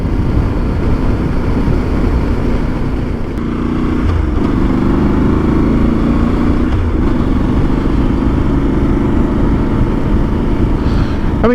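Voge DS800X mid-weight adventure motorcycle under way, with a loud steady engine roar and a pitch shift midway as the revs change, heavy wind rush all through, no talking.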